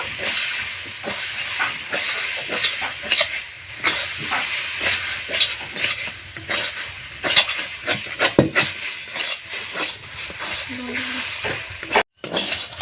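Potato and semolina dough being stirred in a pan, a continuous hissing, scraping churn with repeated spoon knocks and sizzle, steady and close, briefly cut off near the end.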